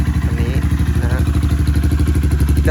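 A Ryuka Infinity 250cc motorcycle with its stock exhaust idles steadily close by, a loud, even low-pitched chug with rapid rhythmic pulses throughout.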